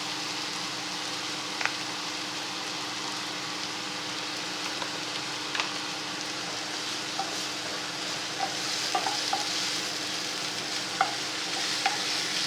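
Ginger garlic paste fries in oil for aloo paratha filling, giving a soft, even, continuous sizzle with occasional light stirring clicks and no voices.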